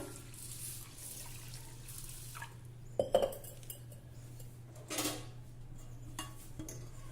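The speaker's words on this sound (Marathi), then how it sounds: "आता यामध्ये आवश्यकतेनुसार पाणी घालू" Water runs into a pot of washed lentils and rice set to soak, with clinks and knocks of the metal vessel during pouring over a steady low kitchen hum.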